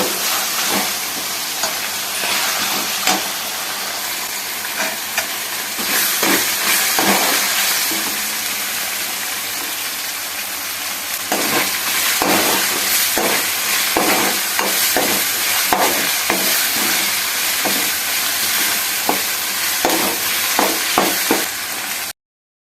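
Onions, green chilies, ginger-garlic paste, potatoes and whole garam masala spices frying in oil for an Andhra-style mutton tripe and gongura curry, a steady close sizzle with occasional stirring scrapes throughout.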